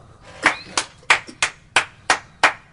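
Seven sharp, evenly spaced hand claps ring out one after another in a steady rhythm, close and crisp against a quiet background.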